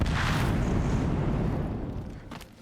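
A bomb shot and exploding in Horizon Zero Dawn: one loud close boom with a rolling rumble that slowly fades over two seconds, ending in a faint sharp crack.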